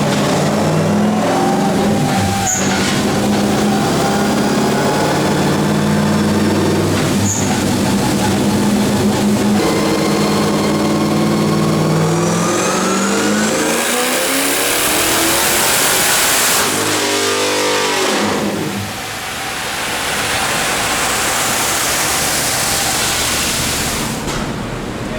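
A turbocharged 427ci LS V8 in a C6 Corvette runs a dyno pull, holding a loud, sustained roar as the revs climb steadily. It ends in a whooshing release as the engine drops back, and the whole run sounds very close with no talking.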